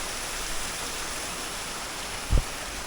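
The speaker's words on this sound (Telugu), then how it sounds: "ఇట్లా రోడ్డు కింద నుంచి వాటర్ ఫాల్ వాటర్ అయితే వెళ్ళిపోతుంది." Water of Jeeba waterfall rushing beneath a roadside, a broad, steady roar like heavy rain, constant and fairly loud, with one low thump near the end and no talking.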